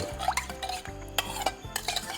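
Glass noodles are stirred in a metal pot, with repeated scraping and clinking of the utensil against the pot in an uneven rhythm, heard close up without talk.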